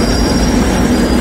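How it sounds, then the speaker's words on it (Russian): A Madrid metro train rumbles along the rails with a steady loud roar and a faint wheel squeal, close and continuous. "Метро такое смешное, как в Греции, как в Афинах, но очень удобное."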